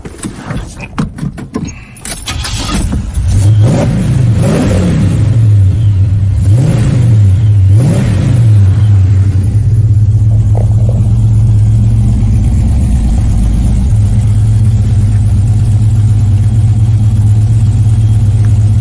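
A muscle car engine starts and revs loud and close, with keys jangling briefly before the crank and a few sharp throttle blips settling into a deep rumbling idle that holds steady.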